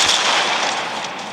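Gunfire in the Mech Arena mech combat video game: a loud, dense, continuous roar of shots lasting just over a second, with no pauses.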